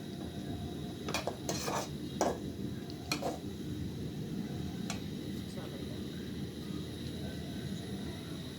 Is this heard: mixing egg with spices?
yes